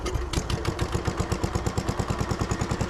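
Gravely C10 walk-behind tractor engine sputtering into life on choke, then settling into a loud, close, steady idle with rapid regular pulsing chugs.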